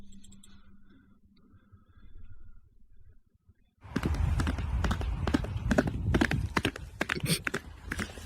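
Horse hooves clip-clop on a road in a quick, even rhythm of sharp close strikes that start abruptly after a quiet opening with faint murmuring.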